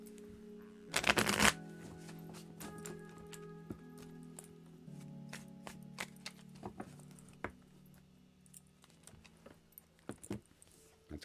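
An old, ungilded tarot deck being shuffled by hand, one loud riffle near the start followed by soft, close card slides and taps that continue quietly throughout.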